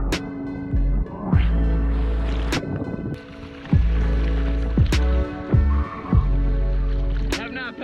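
Surfers paddle out on surfboards through the ocean at Huntington Beach during a memorial paddle out, with hands splashing and water sloshing close by, repeated strokes over a steady wash of waves and wind.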